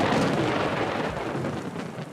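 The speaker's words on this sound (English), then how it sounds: "I've witnessed incredible storms and torrential downpours" Rumbling thunder rolls over heavy, torrential rain during a wet-season storm in Namibia's Central Highlands, a broad continuous roar with no voices.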